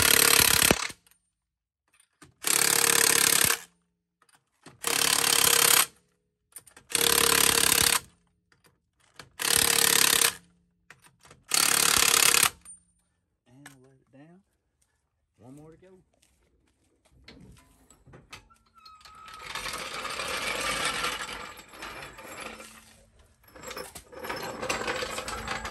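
Pneumatic impact tool rattling on the wheel lug nuts of a Ford F150, with six loud, evenly spaced bursts close by, followed by quieter clicks and a longer rough mechanical stretch at the end.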